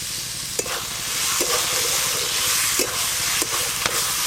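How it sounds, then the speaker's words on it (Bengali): Chopped tomatoes fry with onion, ginger and garlic in a pan, giving a loud, continuous sizzle close up, broken by several scraping strokes of stirring spaced about a second apart. "আবারও কিছুক্ষণ নেড়ে নেড়ে পুরো টমেটোগুলো ভালো করে গলিয়ে নেব"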